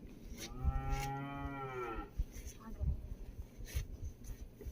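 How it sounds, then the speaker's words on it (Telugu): A cow on a farm gives one long, close moo lasting over a second, followed by quieter shuffling and scattered knocks; low background with possible voices. "ఆవు"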